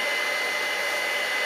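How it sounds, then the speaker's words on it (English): A heat gun blasts a steady, loud broadband hiss of rushing air, continuous and unchanging with no voices over it. "Here's the heat gun."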